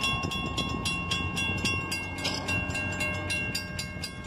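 A Rochester & Southern train rolls past in LeRoy between old depot buildings, a steady close rumble with repeated rhythmic clicks over the whole stretch and no voices.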